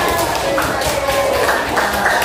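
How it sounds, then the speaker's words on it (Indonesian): A classroom of people clapping together briefly, a steady patter of hands with some voices mixed in. "Tepuk tangan kita."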